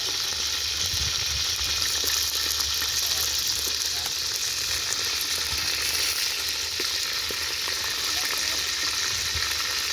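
Fish fry in hot oil with a steady, close, loud sizzle and crackle that holds unbroken throughout.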